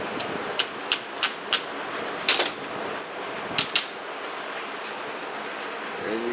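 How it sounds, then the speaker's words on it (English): Short, sharp metallic taps of a tool on a socket seated over a small retaining clip on a 2003 Harley-Davidson Night Train motorcycle, about eight clicks in quick succession, close and fairly loud, with no talking. "We'll just give her a couple of quick taps."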